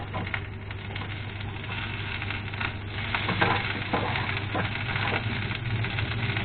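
Potato perkedel patties being reheated in frying oil give a steady, close sizzle with soft crackle, holding at an even level throughout.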